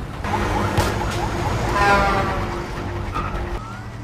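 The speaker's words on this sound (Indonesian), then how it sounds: "Dan ternyata Saju ikut mengejar Tyler menggunakan mobil polisi tersebut" A police car chases through a film scene with its siren wailing over engine roar and tire noise, loud and continuous for a few seconds.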